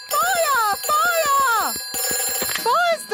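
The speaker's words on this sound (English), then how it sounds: "Ooh, a telephone." A cartoon telephone rings in a Peppa Pig episode, with repeated bursts of a bright, warbling electronic bell separated by short gaps, loud and close, with a child-like voice briefly in between.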